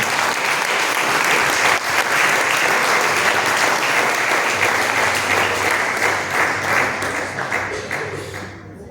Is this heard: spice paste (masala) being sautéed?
no